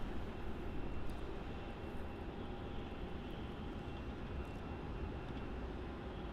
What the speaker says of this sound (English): we got the United there on screen, pushing back and ready to go to runway 16